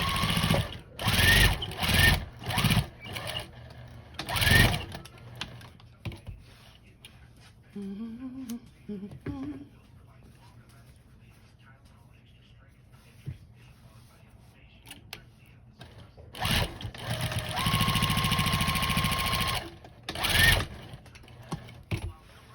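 A sewing machine back stitching a fabric bowl cozy, running in several short loud bursts separated by quiet pauses, then one longer sustained run near the end, with no speech over it.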